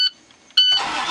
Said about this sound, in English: I will start the engine again.